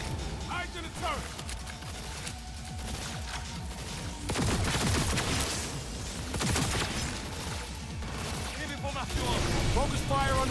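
Rapid bursts of gunfire and weapon blasts in Cyberpunk 2077: Phantom Liberty, aimed at a turret's cooling vents, repeating throughout with crashes and game effects under a player talking.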